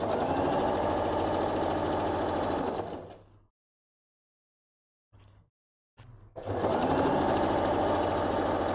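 A sewing machine stitches an abaya in loud, close bursts of rapid whirring, stopping for a silent pause, giving a short burst, then starting again and running on.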